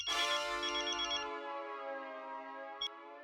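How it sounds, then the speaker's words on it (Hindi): A telephone rings with a bright, electronic ringtone: a loud, sustained melodic trill that fades gradually over a few seconds, followed by a brief click near the end, with no talking. "अब अंजलि, मेरा एक फोन है जरूरी, मैं जरा बात करके आता हूँ"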